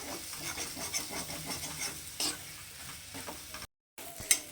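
Spice masala for a matar paneer curry made without onion or garlic sautés in a pan, a soft sizzle under repeated rubbing, scraping stirs, close and fairly quiet, with a brief dropout near the end and no speech.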